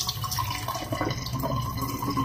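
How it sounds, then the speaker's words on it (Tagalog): Water runs steadily into a kitchen sink and drains away, making a continuous splashing, trickling wash. The sound is close and even and lasts the whole time. "So, dirita sa lababo. Sa pag-drain."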